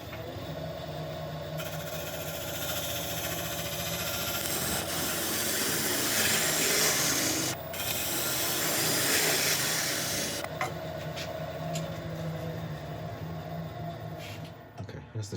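A wood lathe turns the heaviest wood as a tool cuts a shoulder for a vase base, giving a steady, loud hissing scrape that runs continuously with brief dips.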